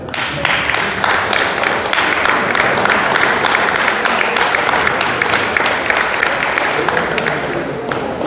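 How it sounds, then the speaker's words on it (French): Loud, sustained applause from a large audience of men standing at a memorial gathering honouring mothers, with dense clapping filling the whole stretch and no break. "Nous allons applaudir très très très fort pour les moments."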